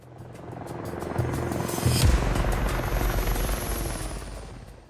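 A ship's helicopter from the USS Vincennes flies past with a loud, steady rotor thrum and turbine whine that swells around the midpoint, then holds a broad roar.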